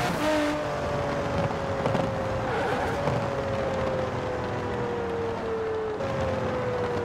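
An Aston Martin Vulcan racing car engine in a video game holds a steady high drone, dipping slightly as it shifts, close and continuous over tire and road noise.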